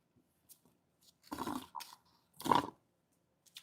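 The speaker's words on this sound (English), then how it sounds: "Sorry, I'm slurping my icy." Someone slurps an icy drink close to the mic in two bursts of wet, crunchy sucking noise, with faint clicks in between and no talk over it.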